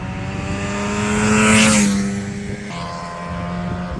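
A 1978 Yamaha RD400 oil-injected two-stroke motorcycle revs up close with a rising, buzzing whine that peaks, then pulls away and fades to a steady, distant drone.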